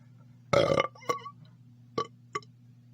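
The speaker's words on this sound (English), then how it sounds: "there's the burp of appreciation" After a meal from a 24-hour military ration pack, a man lets out one long, close, guttural burp, followed by a few small mouth and lip sounds in an otherwise quiet room.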